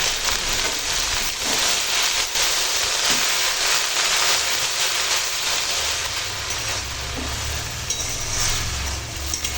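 Young leafy greens cook in a pan with salt and turmeric, giving a steady, fairly loud broadband sizzle and hiss that continues unbroken throughout, with no voices.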